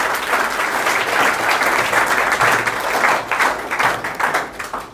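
Loud, steady applause from a class of students, dense clapping that holds strong for nearly five seconds and eases slightly at the end.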